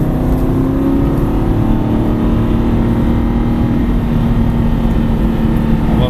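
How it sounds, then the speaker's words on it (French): A car engine runs steadily and loudly throughout, with a continuous low drone and no clear sign of braking or a gear change, during a driving lesson. "Freiner et mettre la deuxième tranquillement"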